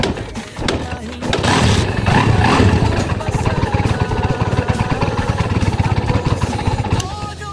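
A Barako 175 motorcycle, just fitted with a new ignition switch, fires up after a short crank and settles into a loud, close, steady chugging idle that runs to the end.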